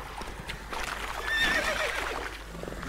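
Roach, the horse in The Witcher 3, whinnies in a clear rising-and-falling neigh around the middle, with hoof clip-clop and game ambience running underneath.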